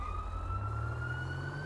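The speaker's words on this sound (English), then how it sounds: "I kind of hear sirens" Police sirens sound in a video game as the player waits in a parking garage on Del Perro Boulevard, a steady, moderately loud wail rising in pitch over a low engine-like rumble for under two seconds.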